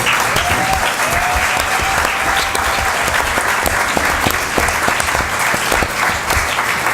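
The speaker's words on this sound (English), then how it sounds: "can everybody thank them by clapping?" A panel-event audience at a sustainable business council gathering breaks into sustained, even applause to thank volunteers, a dense wash of many hands clapping with no talk over it.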